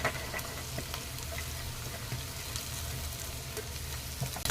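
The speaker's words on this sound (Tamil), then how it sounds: "அவரைக்காயை ஆட் பண்ணிவிட்டு அதையும் நல்லா இது மாதிரி கிளறி விட்டுருங்க" Chopped broad beans and onions frying in a pan while being stirred, a soft steady sizzle with faint scraping and clicks from the spoon, fairly quiet and close.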